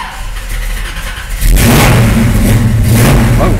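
A 1967 Chevelle SS 396 V8 engine runs loud and close outdoors, a steady rumble that swells sharply into a revving roar partway through, with no talking.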